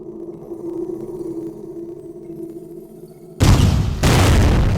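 A powerful guided leg cannon fires in the Dororo action game, a sudden loud boom bursting in after a low hum, followed by a second blast that keeps roaring at full strength.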